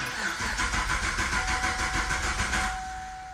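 The starter of a Chevrolet Camaro ZL1, a high-mileage 650 WHP car, cranks the engine with clutch and gas held down to prime the oil system, a rapid rhythmic churning for almost three seconds, then stops without firing.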